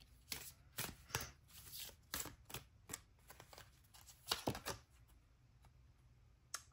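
Tarot cards riffle and slap together in quick, crisp bursts as a deck is shuffled and a card drawn, close and fairly quiet with no talking.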